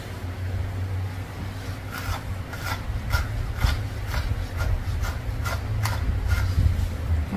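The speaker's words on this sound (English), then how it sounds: "So we have to use a slicker brush." A slicker brush works through the fur of a Bichon-Poodle mix, giving a series of close, rhythmic scratchy strokes over a steady low background hum.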